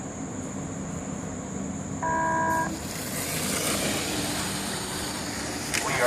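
A short steady horn blast at a speedway before a Super Truck race start, about half a second long, standing out over a broad background roar of engines and crowd noise.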